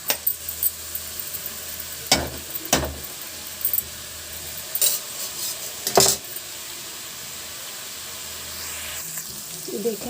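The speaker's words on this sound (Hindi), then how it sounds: "और थोड़ा सा पत्ता गल सा जाए तब तक इसको भूनना है।" Cabbage roasting in a pan for a cabbage curry, a soft steady sizzle with a few sharp scraping stirs and utensil clicks against the pan, close and fairly quiet, no voices.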